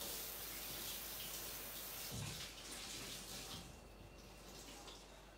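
Kitchen tap running into a sink with a touch of dishwashing liquid, a steady soft rush of water that shifts briefly midway and then tapers slightly, close but quiet, with no talk.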